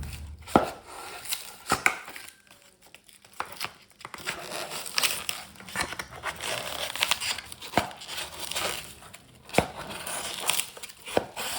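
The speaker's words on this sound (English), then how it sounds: "we should take it out slowly by ripping the sides" A damaged insulated casserole being ripped apart at the sides to free its thin stainless steel inner bowl, giving close, crackling tears, crinkles and sharp snapping bursts in irregular bursts.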